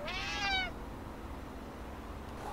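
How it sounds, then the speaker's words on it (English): A cat meows once in the video game Friday the 13th Killer Puzzle: a short, clear, rising-then-falling cry at the very start, followed by a quiet background hum. "the goal is to not have the cat run into the fire"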